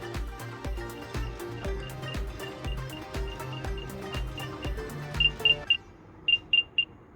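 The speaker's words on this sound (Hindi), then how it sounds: "तो मेरे को आवाज़ आ रही है दोनों ईयरफोन से फाइंड होने की।" Wireless earbuds with a display case, an A9 Pro model, beep in find mode: a few short high electronic beeps in quick clusters near the end, after a stretch of unrelated background music.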